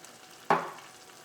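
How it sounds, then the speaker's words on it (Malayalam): Coconut oil poured over a fish curry in a pan, a single sudden sizzle that flares up sharply and then fades over a second, with no talk. "ഈ കറിയുടെ മുകളിലേക്ക് നമുക്ക് കുറച്ച് വെളിച്ചെണ്ണ ഒഴിക്കാം"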